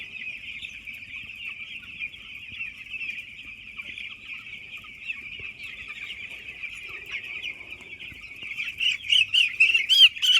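Chicks on a poultry farm peep and chirp steadily, then louder clucks join in toward the end, fairly close by.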